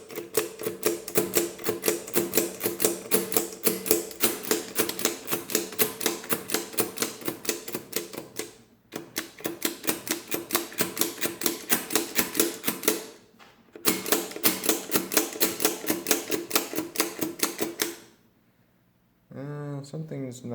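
Keys pressed on an 1891 wooden Comptometer adding machine: rapid, steady mechanical clacking in long runs, pausing twice briefly, then stopping near the end, loud and close.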